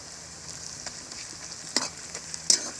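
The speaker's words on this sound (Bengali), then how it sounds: "পেঁয়াজ হাফ ভাজা হয়ে গেছে, তার মধ্যে আমি দিয়ে দিচ্ছি রসুন বাটা" Half-fried onions in a pan with stone-ground garlic paste added, giving a soft, steady sizzle with a few brief louder stirring scrapes near the end and no voices.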